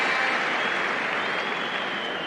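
A large stadium crowd at a 1979 Liverpool versus Arsenal football match applauding steadily, a dense wash of clapping that fills the space without letting up.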